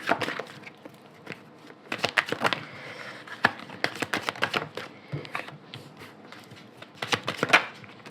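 Oracle cards shuffled by hand in a brief, irregular run of crisp flicking and tapping bursts, close and fairly quiet, with pauses between clusters and no talking.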